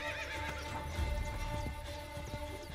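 A horse whinnies in Assassin's Creed Brotherhood, the Ezio Collection on PS4: a loud, close neigh with clip-clopping hooves and game ambience behind it, and no talking.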